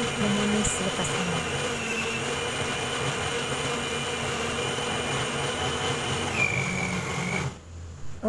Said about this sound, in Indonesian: Kita blendkan semua bahan yang telah dihiris tadi